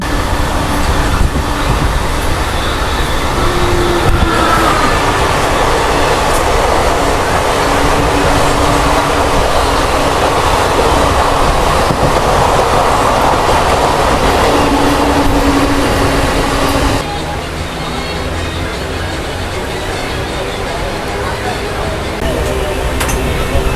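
The Cholan Express train rumbles past nearby, a steady loud roar of wheels and carriages that drops to a lower, quieter rumble near the end.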